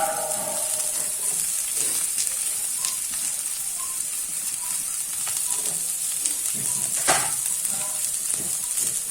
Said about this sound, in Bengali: পেঁয়াজের সাথে এবার সবজিগুলোকে আমি ভাজবো।